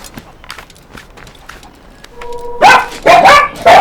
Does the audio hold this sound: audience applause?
no